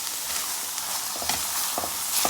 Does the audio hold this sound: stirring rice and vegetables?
yes